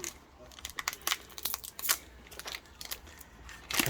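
Digimon Xros Encounter booster pack being opened, with close, crisp bursts of foil crinkling and tearing coming in irregular clusters and a louder rustle at the end.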